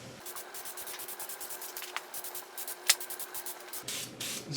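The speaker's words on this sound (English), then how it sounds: "I'm just going to paint black over it" Black paint is brushed onto the brake carrier of an Audi Q5, giving rapid, rhythmic scratchy brush strokes close up, with a couple of small clicks in between.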